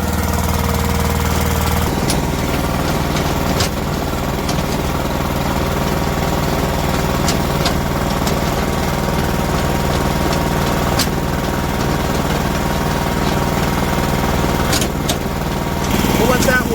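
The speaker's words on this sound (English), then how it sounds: "This is the valve to turn on the conveyor, so we'll just turn this on a little bit" An Eastonmade Axis firewood processor runs its conveyor with the engine going, giving a loud, steady mechanical rumble and clatter throughout, with occasional sharp knocks.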